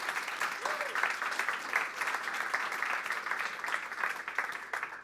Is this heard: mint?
no